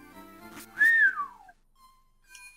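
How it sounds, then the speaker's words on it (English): A single bright, rising-then-falling whistle modeled on Sonic the Hedgehog, one clear sweep that fades out, followed by a faint lingering tone, with no talk. "That was a Sonic the Hedgehog whistle"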